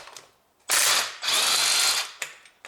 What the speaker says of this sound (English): I use now my impact driver, and let's open that bolt